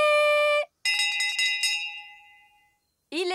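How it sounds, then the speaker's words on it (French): A bright dinner bell in a cartoon kingdom rings several quick clanging strikes that ring out and fade, with a sung or spoken voice briefly before and after. "La cloche!"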